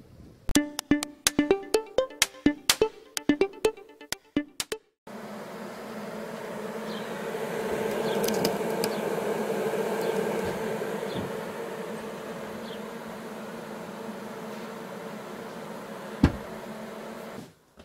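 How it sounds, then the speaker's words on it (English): A dense, steady buzzing of many young honeybees in a swarm box fills the air close by, preceded by a few seconds of sharp clicking and tapping sounds. "This is our swarm box. It's full of young bees."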